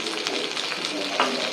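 Chana dal, dried chillies and curry leaves spit and crackle in hot oil for a South Indian tempering, a close, steady sizzle with small popping bursts.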